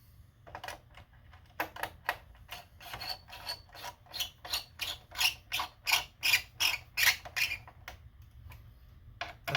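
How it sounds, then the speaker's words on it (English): A small Phillips screwdriver drives screws back into a PS5 console, a rhythmic series of short ratcheting, grinding twists repeating over several seconds, close and crisp. "we're going to use a small Phillips to screw those back in"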